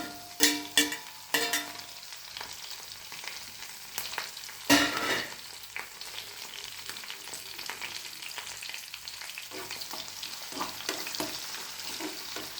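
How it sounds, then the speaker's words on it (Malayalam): Ginger, green chilli, curry leaves and garlic fry in hot oil for a sour lime pickle: a busy, crackling sizzle with several sharp stirring clatters early, then a continuous, even frying hiss. "ഇഞ്ചിയും കരിയാപ്പിലയും വെളുത്തുള്ളിയും എല്ലാം കൂടെ മൂത്ത് വരുന്നു"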